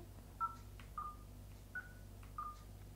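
An i-mate K-JAM smartphone from 2006 plays four short, faint DTMF dialing beeps on its phone interface, evenly spaced over a low background hum.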